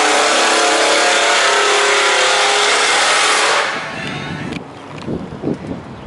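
A truck arriving, a loud broadband engine rush that roars close by for several seconds, then cuts down to a lower idle rumble with faint clanks and knocks.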